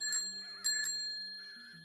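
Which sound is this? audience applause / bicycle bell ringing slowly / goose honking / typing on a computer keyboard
bicycle bell ringing slowly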